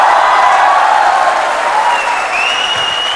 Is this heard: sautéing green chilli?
no